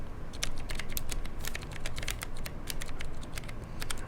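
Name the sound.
typing on an Atreus keyboard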